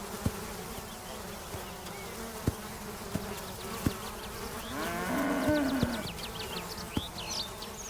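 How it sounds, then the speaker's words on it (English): Bluebottle flies buzz steadily around cows, a dense droning hum close by with a few sharp knocks and a brief swell of louder buzzing midway, with no talk. "The bluebottles shuttle between dung and cow, where they harvest moisture from its mucous membranes."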